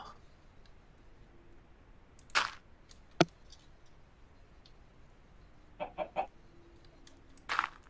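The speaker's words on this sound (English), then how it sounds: "Oh no, it's a chicken." Minecraft chicken clucks in short scattered bursts, faint and sparse against a quiet game background, with a single sharp click in between.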